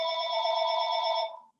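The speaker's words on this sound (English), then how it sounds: "Sorry about that phone." A telephone rings indoors during a yoga class, a steady electronic bell tone sounding continuously for over a second before cutting off, loud and alone with no talk over it.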